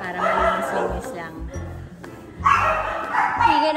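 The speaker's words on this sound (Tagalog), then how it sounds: "Hingay ng aso ha." A dog barks several times nearby at a home under restoration, the barks mixed in with people talking over them.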